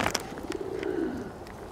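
Pigeons give a low, rolling coo in the middle of a mating display, close and moderately loud, with a few faint chirps around it and no talking.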